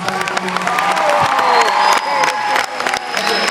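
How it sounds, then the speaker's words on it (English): Middle school audience in a gym breaks into loud applause, cheering and whoops for a visiting pro football kicker, a dense continuous crowd roar with scattered shouts and voices throughout. "One more round of applause for coming out."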